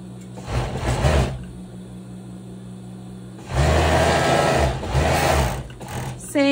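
A sewing machine stitching viscose lycra T-shirt fabric runs in two loud, close bursts of rapid mechanical whirring, with a quieter pause between them and a brief clunk at the end.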